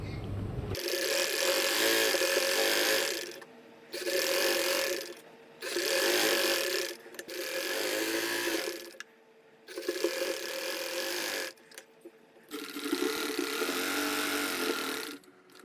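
A sewing machine stitches a partywear long gown in several loud, close bursts of rapid mechanical whirring, separated by short pauses as the fabric is repositioned.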